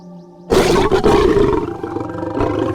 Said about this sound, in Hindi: हाँ, यह शेर की दहाड़ है।